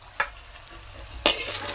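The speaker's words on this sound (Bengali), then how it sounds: "সেই বেগুনটা দিয়ে ভেজে নিচ্ছি" Eight slices of eggplant fry in oil in a pan, a low steady sizzle punctuated by two crisp spatula scrapes, close by and without voices.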